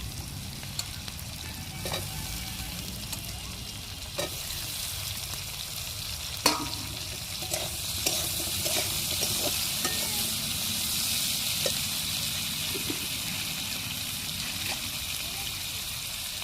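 Potatoes and bitter gourd fry in a pan with a steady, broad hiss of hot oil, while a utensil scrapes and clicks intermittently as the pieces are stirred throughout.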